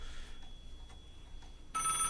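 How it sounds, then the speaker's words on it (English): A telephone bell starts ringing near the end, a sudden bright, sustained ring cutting in after a stretch of quiet room tone. "Your phone's ringing."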